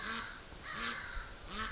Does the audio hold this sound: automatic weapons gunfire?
no